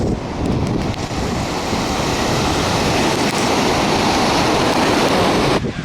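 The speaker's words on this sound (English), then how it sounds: "Right now I'm in front of a very famous beach in Chennai which is known as Golden Beach" Ocean surf rolls in at Golden Beach in Chennai, a dense, continuous wash of breaking waves mixed with gusty wind buffeting the microphone, loud and steady with no voices.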